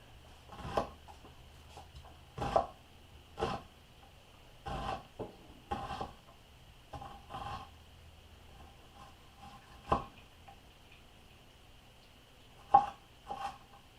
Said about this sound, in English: So I usually will slice these in half, then in half again.